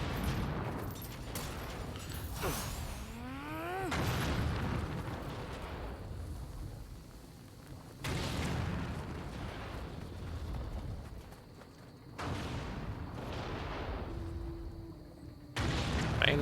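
Enemy cannon fire booms in the video game Nioh 2, with several loud, rumbling blasts in separate bursts mixed with other game effects across the stretch.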